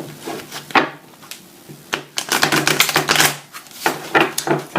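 An oracle card deck being shuffled by hand; close, dry riffling and flicking bursts in quick irregular clusters with short pauses between, papery and fairly loud, with no talking.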